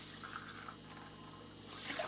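A walleye is slipped back into the water through an ice-fishing hole in South Dakota, giving a faint trickle and a soft splash near the end over quiet background hiss.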